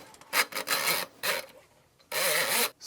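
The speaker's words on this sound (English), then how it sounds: "the action of the cable against the pipe is going to be cleaning the drain" A drain snake auger's cable scrapes and rasps inside a pipe in irregular bursts, several rough grinding strokes separated by brief pauses, close and fairly loud with no talking.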